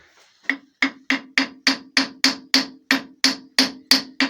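Hammer blows on a lathe knock at a part during an 80 mm parting cut for left-hand bolts and nuts. About fourteen sharp metallic strikes land in a steady, even rhythm, loud and close, with no talk.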